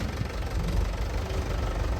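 A tractor engine idles nearby with a steady low knocking rumble throughout, loud and continuous with no talk over it.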